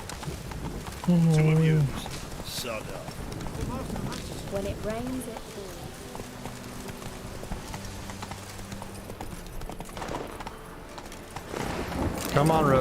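Roach the horse trots along in the rain in The Witcher, hooves clip-clopping softly under steady rain noise, with a short whinny early and voices talking over the scene.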